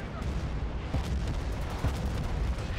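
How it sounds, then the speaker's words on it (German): Tank cannon fire and explosions in the video game Bad Company 2, a couple of heavy booms over a dense rumbling battlefield, with faint voices underneath. "Die Panzer bewegen sich so gut wie kaum und ballern alles klein."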